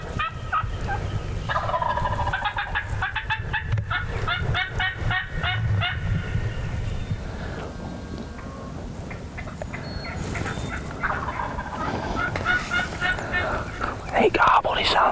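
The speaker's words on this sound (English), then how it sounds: "He gobbled. He sounded a little further to the right." A wild turkey tom gobbles in the southern woods, a few rattling gobble bursts at moderate distance, with quiet whispered talk from hunters nearby between calls.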